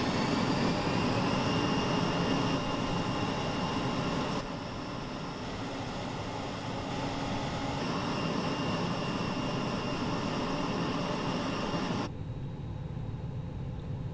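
Simulated thrust reversers on an Airbus A320neo (FlyByWire A32NX) in Microsoft Flight Simulator 2020 roar as a loud, steady broadband engine rush with a droning tonal whine, stepping down in level twice as power eases after landing.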